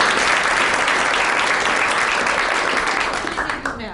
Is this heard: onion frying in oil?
no